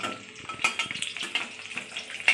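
Eggplant pieces frying in a pan, a moderate crackling sizzle with uneven pops and spits over a few seconds, no voices.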